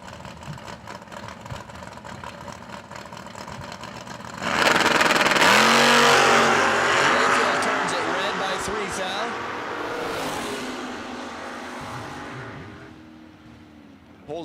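A 1967 Camaro drag racing car at the Fall Brawl roars loudly at launch, a harsh, dense engine howl that swells suddenly and then slowly fades as it pulls away, with an announcer talking over it throughout.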